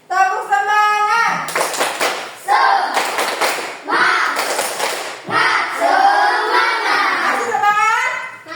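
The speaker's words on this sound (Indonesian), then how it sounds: "Tepuk semangat dulu ini." A high school class performs a rhythmic spirit clap, with bursts of loud, patterned group clapping alternating with young voices chanting and singing in between.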